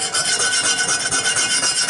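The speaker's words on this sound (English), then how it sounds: "go in with a chisel, just a little one for the round areas, and just go through and just scrape some of that rust off of" A small chisel scrapes rust from a cast iron pan in rapid, rhythmic rasping strokes, close and loud, with no talking.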